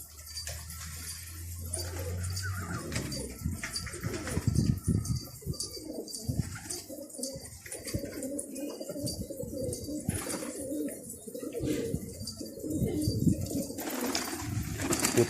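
Pigeons coo softly in a loft amid faint rustling and low background noise, with Kashmiri pigeons among the flock; the cooing stays steady and moderately close throughout, with no voices.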